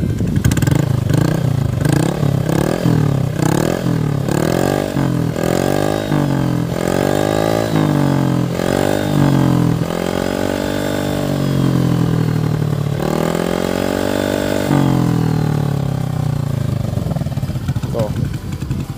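A standard Honda Beat Deluxe scooter fitted with an MDM Kondoman muffler revs repeatedly, its loud, raspy exhaust rising and falling in close, steady pulses, with someone talking over it.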